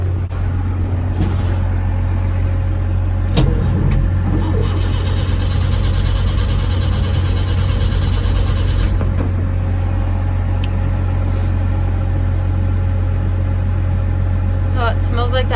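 A Chevy Luv truck engine cranks and runs, a steady loud low rumble throughout with a brief rise in the middle and scattered knocks and rattles nearby.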